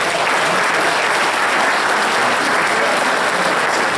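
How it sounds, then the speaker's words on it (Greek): Warm applause from the audience at a political party's New Year pie-cutting event in Florina, Greece, dense steady clapping that fills the whole stretch at close range with no pauses. "Θα ζητήσω από όλους όμως ένα θερμό χειροκρότημα"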